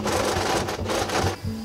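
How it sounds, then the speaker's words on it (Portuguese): A sewing machine runs a second seam across pleats on a lace boho wedding dress, a steady close whirring hum with brief pauses and restarts, heard alone. "Vou passar uma segunda costura para que essas pregas elas não venham ficar abrindo muito"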